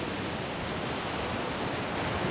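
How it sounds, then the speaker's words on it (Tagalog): Steady, dense surf rolls in along a dawn seashore at Bukana, a continuous broadband wash of breaking waves with wind rush, close and even throughout, no voices. "Tayo sa tabing dagat ng Bukana."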